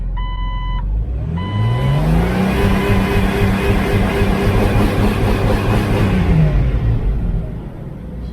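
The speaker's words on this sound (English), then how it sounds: "I'm gonna start the Jeep and try to rev it and see what happens" Jeep TJ engine cranked and started, then revved up to a high steady roar that holds for several seconds before dropping back toward idle, loud and close with no talking.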